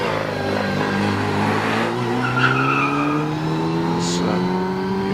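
A 1400cc MG Midget race car climbs the Prescott historic hillclimb, its engine note rising steadily as it accelerates through the gears, loud and close, with brief tyre squeal along the way.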